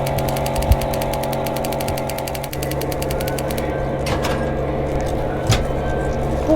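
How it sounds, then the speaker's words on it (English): Ship engines and boilers starting up in the Roblox game, a rapid mechanical ticking that gives way to a heavy steady rumbling drone with occasional clanks, loud and continuous with no voices. "The engines sprang into the action and the boilers began to smoke."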